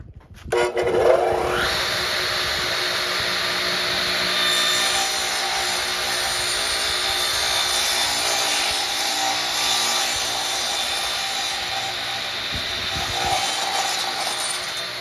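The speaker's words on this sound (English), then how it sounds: "then I'll cut it on my saw" A power saw spins up and cuts steadily through a board, a loud, sustained whining buzz with grinding texture, close by and continuous.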